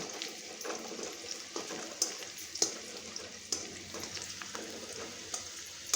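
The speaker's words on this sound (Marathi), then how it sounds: "लसूण कढईमध्ये टाकून चांगला तळून घ्यायचा" Garlic frying in hot oil in a kadhai gives a continuous close sizzle with crackling pops and occasional sharper spits, steady throughout with no talking.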